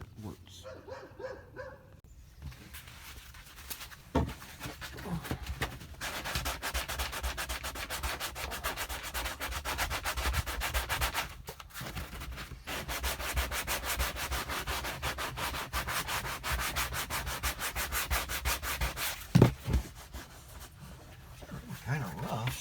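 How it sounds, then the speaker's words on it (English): Continuous rough scraping of a sanding block rubbed back and forth over a hot tub surface being repaired, with brief pauses, a dog barking once or twice in the background. "So I'm going to try this sanding block and see how it works."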